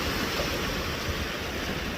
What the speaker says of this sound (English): which I have here being caressed by the water as it rushes to the shore